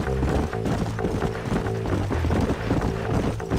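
Horse hooves clip-clopping along in Red Dead Redemption, a steady rhythmic trot of several hoofbeats, fairly close, with faint background ambience and no talk.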